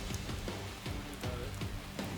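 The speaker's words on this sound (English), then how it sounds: "it's still raining, it is cold" Rain falling on a small wooden houseboat on a river in cold weather, a steady dense patter of drops with occasional louder taps, close and continuous with no voices.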